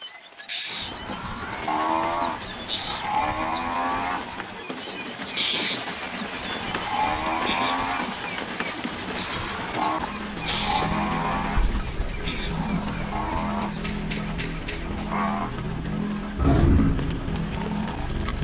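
A herd of African buffalo arrives, heard as repeated deep lowing moos and grunts close by, layered over a continuous rumbling bed of hooves and movement, with occasional bird chatter from red-billed oxpeckers above.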